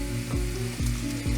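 Tomatoes sizzle in a pan with softened onions for a vegan pasta sauce, a steady frying hiss broken by a few rhythmic scrapes or stirs.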